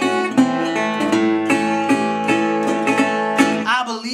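Delta blues guitar wind-down combination: a run of ringing, sustained notes and chords, each plucked at an even pace, played solo and up close, ending with a slide-like bend.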